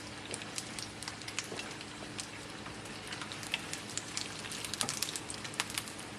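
Rain falls outside in Florida, a continuous soft hiss with scattered sharper drip ticks, fairly quiet and steady with no voices over it.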